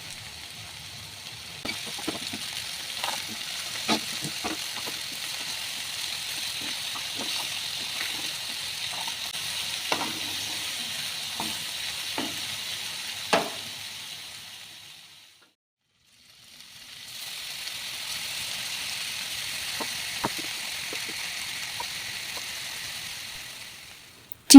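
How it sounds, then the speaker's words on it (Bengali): Marinated chicken tikka pieces fry in hot oil in a pan, giving a steady soft sizzle with scattered crackles and pops. The sizzle drops out briefly for about a second, then resumes at the same level. "প্যানে তেল গরম করে ম্যারিনেটেড চিকেনগুলো 2 পিঠ লাল করে ভেজে"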